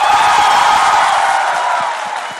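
Audience at a magic symposium applauds and cheers, a dense steady wash of many hands clapping with scattered whoops, loud throughout and easing slightly toward the end.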